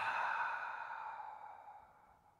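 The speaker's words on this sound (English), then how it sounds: "Hold the breath, hold your breath. Suspend it. And exhale loudly." A loud, long exhale during yoga breathing, heard up close and on its own. It starts strong and fades steadily over about two seconds.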